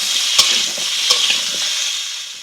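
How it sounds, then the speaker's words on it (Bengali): Potatoes fry with cauliflower in a pan, a bright, close sizzle broken by a couple of sharp scraping clicks as the pieces are stirred. "ফুলকপিটাকে আমি ভেজে নিয়েছি, তো এর মধ্যে আমি আলুগুলোকে দিয়ে দেবো, আলুগুলোকে একটু ভেজে নেব। একটু নাড়াচাড়া করে দিচ্ছি।"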